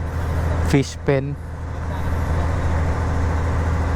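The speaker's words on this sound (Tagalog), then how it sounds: "Pasensya na kayo sa ingay kasi nakapwesto kami doon sa malapit sa makina." Steady low engine drone of a barge heard from aboard near the engine while travelling past fish pens off Santiago Island, Bolinao, Pangasinan, loud and continuous under a brief burst of nearby speech.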